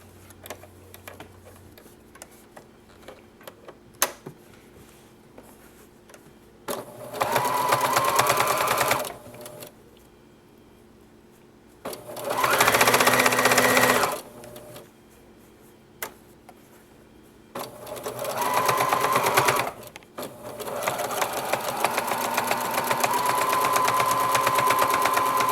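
A sewing machine top-stitching child boxer briefs runs in three separate bursts of steady, rapid needle clatter, close and loud, with quiet handling noise between them and then a longer final run.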